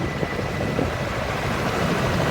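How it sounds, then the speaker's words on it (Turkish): A firefighting helicopter works close by over a forest fire at Patara, its rotor and engine noise a dense, continuous roar mixed with wind buffeting the microphone. "Helikoptere çok yakınım şu anda ben."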